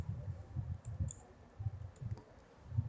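Email and password keyed in on a computer keyboard during an account registration, soft irregular bursts of keystrokes in short clusters, close by with no talk.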